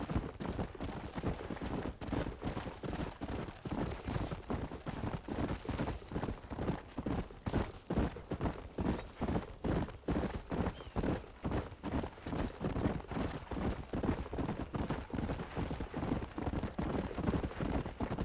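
Galloping horses in the Red Dead Redemption video game, a steady rapid clip-clop of hooves running continuously throughout, loud and close with no talk over it.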